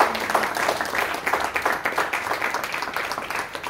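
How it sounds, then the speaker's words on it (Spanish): A church congregation claps loudly together in praise during a sermon, a dense burst of uneven hand claps lasting a few seconds with no voices over it. "Den un fuerte aplauso al Señor"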